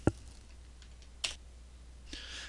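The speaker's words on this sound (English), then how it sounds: "When I hit enter on the keyboard, this will start my line from that specified location." A single computer keyboard key press for Enter, a sharp close click at the start, followed by a fainter tap and soft clicking later in a quiet room.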